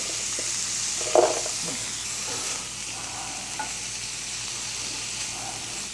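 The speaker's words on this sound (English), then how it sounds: "So I'm putting a little bit more oil in my pan" Steady sizzling of corn and green beans frying in oil in a pan, a broad crackling hiss throughout with a brief clatter of a utensil stirring near the start.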